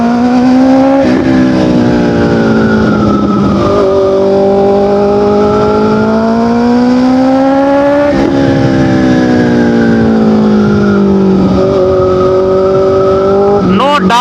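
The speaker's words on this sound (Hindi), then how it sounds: "लेकिन अब जो ऑस्टिन रेसिंग का एग्जॉस्ट फिट हो चुका है उसके बाद राइडिंग एक्सपीरियंस बदल चुका है मेरा पूरा।" A four-cylinder motorcycle fitted with an Austin Racing exhaust accelerates loud and close through several gears. Each pull rises sharply in pitch and then drops at the shift, giving a repeated climbing wail.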